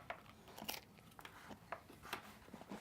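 Several crunchy bites into a berry cheesecake pie topped with whipped cream, sharp close crackles spaced irregularly over a quiet background.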